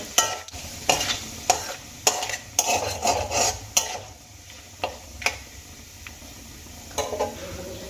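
Whole cumin and spices frying in oil in a pan, a soft sizzle under repeated sharp clinks and scrapes of a metal spoon stirring at an uneven rhythm, close and alone.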